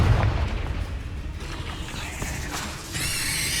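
A Confringo blast spell in Hogwarts Legacy erupts with a loud, deep boom, followed by rumbling debris and a bright magical shimmer near the end.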